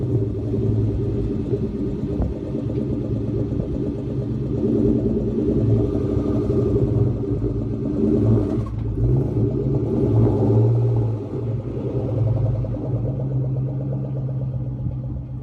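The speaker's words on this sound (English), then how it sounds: "I wanted to hear a start from outside with this makeshift Borla catback and see what it sounded like" A Ford Cobra with a makeshift Borla catback exhaust starts and drives, its engine a steady deep rumble heard from outside that swells and eases with throttle throughout, with no talking.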